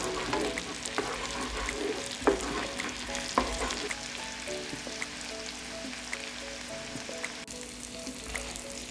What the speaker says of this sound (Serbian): Dodat ću seckani beli luk i propržiti sve zajedno 30 sekundi.